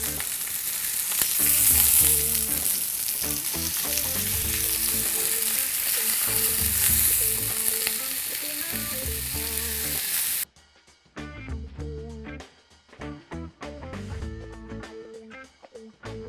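A T-bone steak sizzles hard in a hot pan, a dense steady crackle for about ten seconds, then a quieter stretch of scattered pops and clinks.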